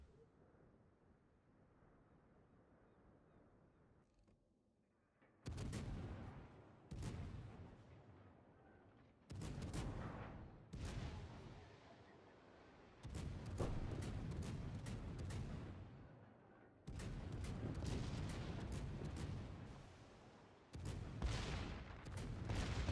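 Warship secondary guns in World of Warships fire in repeated bursts, each a loud broadband boom with a rumbling tail, coming in clusters with short gaps between volleys.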